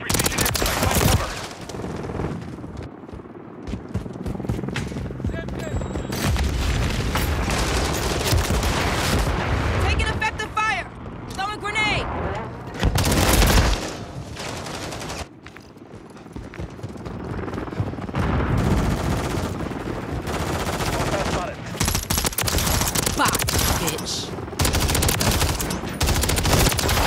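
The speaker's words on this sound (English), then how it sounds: "Enemy precision airstrike, find cover." Continuous heavy gunfire and repeated booming precision airstrike explosions in a Modern Warfare 3 Team Deathmatch match on the Rio map, loud and chaotic throughout, with bursts of automatic fire and radio-style voice callouts heard under the combat.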